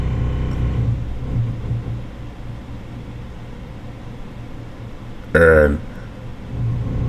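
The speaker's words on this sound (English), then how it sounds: "if you hear that rumbling in the background, that's because somebody doing construction under my hotel." Construction work beneath a hotel makes a continuous low rumble under a man's speech, with a brief louder burst of noise near the end.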